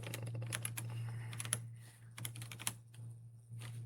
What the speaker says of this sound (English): I'm typing all fucked up right now